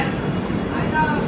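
Train leaving a platform at Kharagpur railway station, a steady low rumble of rolling carriages with a faint brief wheel squeal, moderately loud and continuous.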